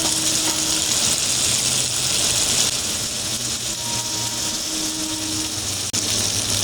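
A potato, eggplant and hilsa fish curry sizzles loudly and steadily in a pan while it is stirred, with a brief knock near the end and no talking.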